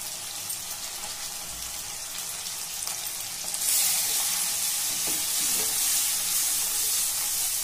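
Chilli powder and coriander powder sizzle in hot oil, a close, steady frying hiss with faint stirring scrapes that grows louder and brighter partway through, no talking.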